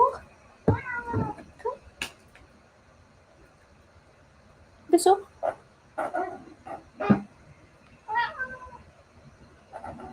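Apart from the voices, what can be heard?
cat meowing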